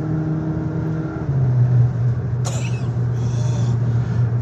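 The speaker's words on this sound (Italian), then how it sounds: "e tira forte sta macchina" A Cupra Formentor 2.0 TSI 245 hp with DSG gearbox accelerates hard in sport mode, a loud steady engine drone heard from inside, with a rising note and a brief shift-like change partway through.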